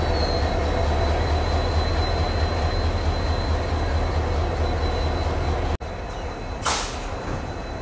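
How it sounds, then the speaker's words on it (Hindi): Inside an Indian passenger train, the Patalkot Express, a steady loud rumble and hum dominates, then a sudden sharp clunk and a brief hiss follow as a diesel locomotive couples on, heard close with no talking. "अपनी ट्रेन का डीजल लोकोमोटिव की कपलिंग हो गई सक्सेसफुल"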